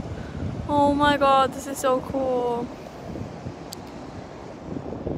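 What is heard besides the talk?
ocean waves at Daytona Beach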